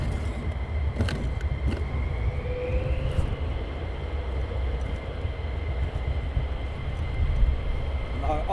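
F-15 fighter jets of the 492nd Fighter Squadron taxiing at Lakenheath, giving a steady, broad jet-engine roar that holds at an even level throughout with no breaks.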